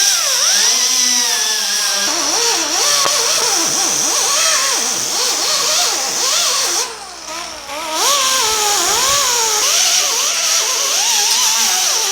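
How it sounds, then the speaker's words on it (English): A wire wheel scrubs and cleans bare metal on a 1950 Chevy truck, a continuous loud grinding whir with a wavering pitch that dips briefly near the middle, running steadily with no talking. "we got everything wire wheeled pretty good"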